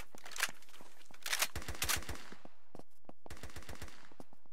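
Gunfire from the video game Kuboom in a team deathmatch: loud bursts of rapid automatic shots, a short clipped volley, then two longer strings, close and sharp, broken by brief pauses.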